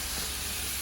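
A hot, seized pin on a hay baler or sprayer being cooled down, giving a steady, loud, close steam hiss that runs unbroken for under a second.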